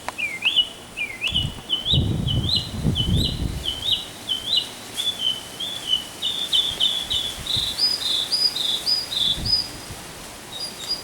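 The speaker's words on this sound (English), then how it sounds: "Listen to that bird." A bird sings a series of high, quick chirps and trills outdoors, moderately distant, with a few low rumbling noises in the background.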